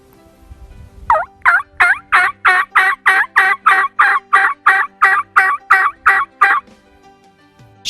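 A hook-style hunter's turkey call yelps in a steady run of about fifteen loud, raspy notes, evenly spaced, close up and alone, then stops.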